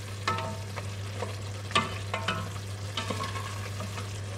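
Shakshuka with peppers simmers and sizzles in a pan under a steady low hum, with soft stirring scrapes and small pops scattered through it, close by and with no talking.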